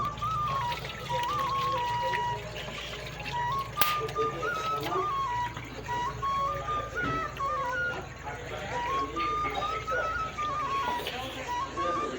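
Water trickles and pours steadily as hands are washed after eating kachori at a food stall, fairly quiet beneath whistling tones and background noise.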